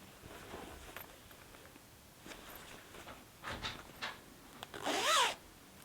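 A zipper on a larger zippered fiber project bag from White Rose Fiber Company is worked in short, quiet rubbing pulls, ending in a louder, quick zip near the end; close and without talk.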